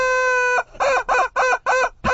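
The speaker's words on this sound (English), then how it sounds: "That they still make rubber chickens?" A rubber chicken toy squawks loudly: one long, drawn-out squeal followed by four short, rhythmic squawks in quick succession, with no talking.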